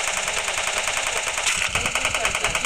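Rapid automatic gunfire from the Free Fire battle royale game, dense repeated bursts running nearly nonstop and loud throughout, with a heavier impact near the middle.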